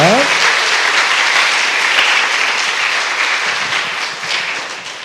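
A church congregation gives loud applause during an evening service, dense clapping at full strength that slowly tapers toward the end, with a brief voice near the start.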